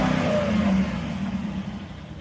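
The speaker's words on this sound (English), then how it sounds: "this thing is fun to drive because you can hear the engine." A car engine revs with a steady low rumble, loud and close, easing slightly toward the end, with no voices.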